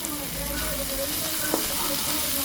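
Fried fish dropped into a pan with sautéed kangkong, giving a steady moderate sizzle with a brief clatter of stirring midway.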